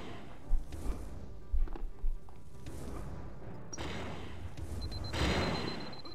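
Gunfire in the UnEpic video game: a few sharp, separated shot bursts early on, then longer crackling volleys with an electronic whine, fairly quiet overall.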